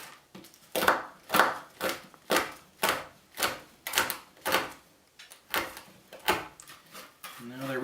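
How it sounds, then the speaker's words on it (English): A knife chops dried pasilla chiles on a cutting board in a steady run of sharp, close cuts, about two per second, with a short voice near the end. "I'm just about finished chopping up these pastillas"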